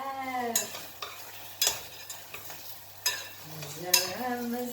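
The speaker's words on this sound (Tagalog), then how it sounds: "So, ilalahok ko siya sa itlog." Chives are stirred into eggs frying in a pan, giving a soft sizzle with several sharp scrapes and clinks of a utensil against the pan and a few brief tonal sweeps at low volume.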